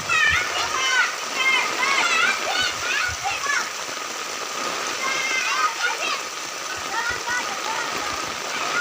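Steady rain and running water splash through a village street where children are playing cricket, a continuous wet hiss with occasional splashes beneath children's voices and shouting.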